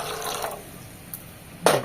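Hot water is poured onto sago pearls in a kitchen bowl, a short, close splashing gush that comes in near the end after quiet, faint liquid sounds.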